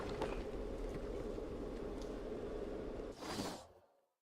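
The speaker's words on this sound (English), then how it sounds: "It's very windy" Wind blowing in the video game Batman: Arkham Asylum, a steady broad rushing noise that swells into a brief gust near the end before fading quickly into silence.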